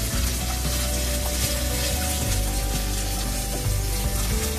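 Spice masala of red chili powder, coriander powder and garam masala fries for a dhaba-style egg curry, a steady close sizzle with a constant hiss and no voices.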